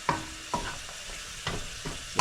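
Vegetables being sautéed in a pan for pancit canton: a soft, steady sizzle with a few sharp spatula clinks and scrapes against the pan at irregular intervals, close and fairly quiet.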